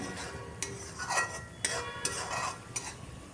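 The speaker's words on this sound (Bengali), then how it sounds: "একটু সময় নিয়ে খুব ভালো করে কষাচ্ছি এটা" Fish masala being sautéed Kerala style in refined oil gives a soft sizzle under several sharp scrapes and clinks of a spoon against the pan, spaced irregularly and close by.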